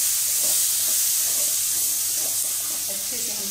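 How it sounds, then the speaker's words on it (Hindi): Tomatoes seasoned with salt sizzle and hiss steadily as they roast in a hot pan, a close, continuous frying sound with faint clatter underneath. "अच्छे से हम टमाटर को भूनेंगे।"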